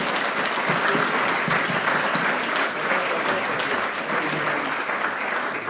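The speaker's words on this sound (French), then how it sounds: "On l'applaudit bien fort." Loud, sustained clapping from an audience greeting a prize winner at a Rotary club virtual race ceremony, a thick continuous patter that stays strong throughout.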